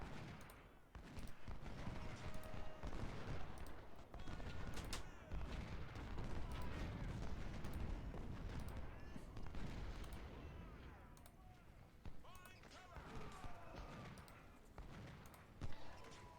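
Dense, continuous battle din of massed musket and cannon fire from a Union campaign battle at Richmond in Ultimate General: Civil War, sustained and layered throughout, with sharper reports popping out near the end.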